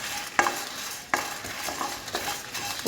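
Dried red chilies being stirred and roasted in a pan for a bitter gourd curry, with a steady dry sizzle broken by a few sharp scraping strokes of a spoon against the pan, close and alone without any voices.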